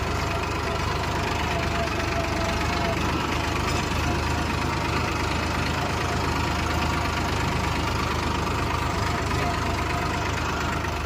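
A tractor engine running on the way to Porbandar, giving a steady, loud, rumbling drone with a constant knocking throb throughout.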